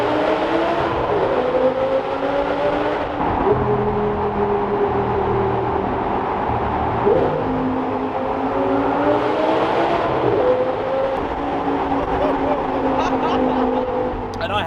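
A supercar engine, roof down, rises and falls through several repeated rev sweeps with a steady droning note in between, loud and close.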